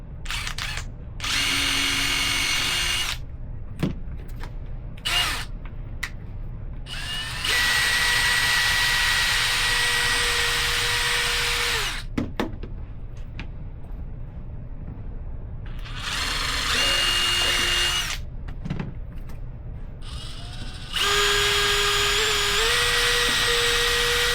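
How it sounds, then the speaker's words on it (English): A power drill whirs loudly in several long bursts, drilling holes in Vans shoe parts, revving and stopping repeatedly, with clicks and brief quiet gaps between runs. "We're just going to drill the holes in the rest of these."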